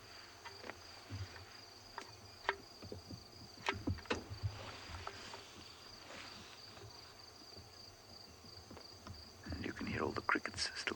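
Crickets calling at dawn in Ngala Private Game Reserve, a faint, steady high-pitched trilling over a low outdoor hum, with scattered clicks and rustling and a few brief bird calls.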